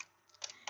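A title is typed on a computer keyboard in a few soft key taps, two small clusters of clicks close by, faint and quiet.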